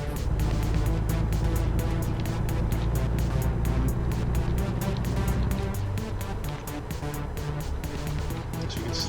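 A truck's engine in American Truck Simulator pulls steadily as it accelerates, a continuous low drone with a harmonic whine held at even loudness throughout.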